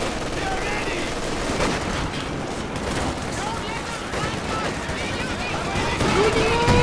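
Dense bursts of rapid gunfire from a video game match in a league final, crackling continuously under excited commentary that runs over the shots.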